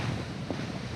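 Wind gusts across a mountain peak on Burnt Knob in the Catskills, a close, steady rushing roar buffeting the microphone for the whole second.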